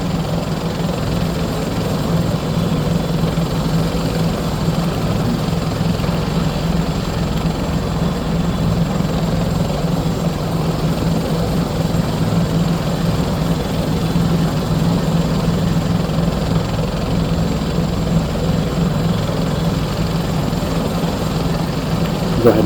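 Simulated Bell 412 helicopter in a P3D flight simulator spools its engines up, a continuous loud turbine whine and low rumbling rotor drone holding steady throughout.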